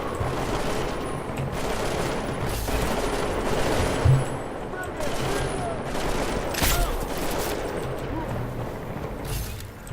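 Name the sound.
gunfire in Deus Ex Mankind Divided video game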